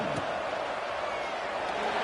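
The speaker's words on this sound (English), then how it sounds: "this crowd is buzzing after that last score" Steady roar of a college football stadium crowd at Ole Miss vs Oklahoma State, buzzing continuously after a score, dense and even throughout with a commentator speaking over it.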